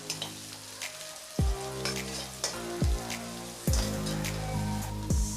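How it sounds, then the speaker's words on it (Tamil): Chopped onions are added to garlic and green chillies in a hot pan, a constant sizzle broken by several clattering stirs of a spoon against the pan. "பூண்டு வதங்கினதும் பெரிய வெங்காயம் போட்டுக்கலாங்க"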